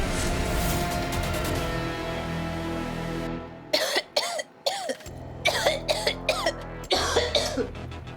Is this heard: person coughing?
yes